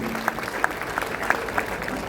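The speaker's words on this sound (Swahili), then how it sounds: "Pigeni makofi." An audience at a formal ceremony in Kenya breaks into applause, a moderate wash of clapping with a few sharper individual claps standing out, slightly distant in a large space, with a faint voice beneath.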